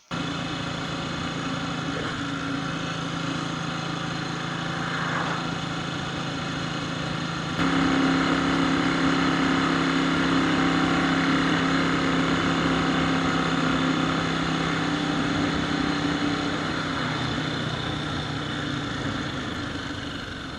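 A BSA C15 motorcycle's single-cylinder engine runs steadily throughout, with a continuous drone and a slight rise in level partway through; no voices are heard.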